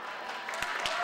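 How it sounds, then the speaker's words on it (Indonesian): Audience applause at a stand-up comedy show, a brief burst of dense clapping that swells slightly over about a second. "Tepuk tangan sekali lagi."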